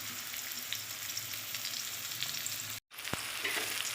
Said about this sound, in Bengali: তো চলো একে একে ভেজে তুলে নিই।